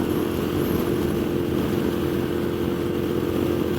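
A 2015 Moto Guzzi V7 mk2 with a 750cc engine, heard from the saddle on a demo ride, holds a steady, close drone throughout with wind noise over it and no talking.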